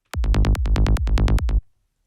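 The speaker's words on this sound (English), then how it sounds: "just the kick and bass is going to already sound like this" A punchy kick drum pounds about a dozen quick, even beats locked with a deep synth bass, loud and close, then stops abruptly.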